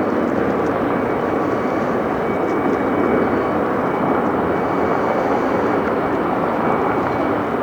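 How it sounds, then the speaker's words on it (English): An American Airlines jet lands at Detroit Metro airport, its engines producing a steady, loud broadband roar that holds evenly throughout without voices. "I hear an American landing on this side."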